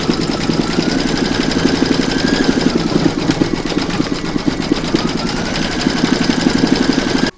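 An embroidery machine stitching a decorative band for an in-the-hoop bells applique, a fast steady mechanical whir with rhythmic needle pulses, close and loud, running continuously before stopping abruptly.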